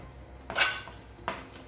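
A spoon scrapes and clinks twice against a bowl while chicken seasoning is stirred for oven-roasted chicken thighs, close and fairly quiet with a short pause between strokes.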